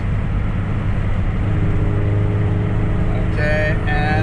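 Car in fourth gear accelerating under electric supercharger boost on a rural farm road, a steady loud engine drone with a rising whine near the end.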